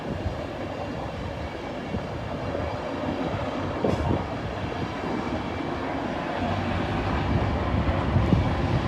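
A train rolls past the Moat Hills level crossing with a steady rumbling roar and rattle of wagons, heard from trackside at a moderate distance and building slightly toward the end, with no voices.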